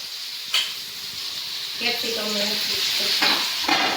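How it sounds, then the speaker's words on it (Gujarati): Onions frying in a pan for a veg paneer kheema, a steady close sizzle with a few sharp stirring scrapes and clatters, with some voices faintly underneath. "આ ડુંગળી આવી ગઈ ડુંગળીને ફ્રાય કરવાની"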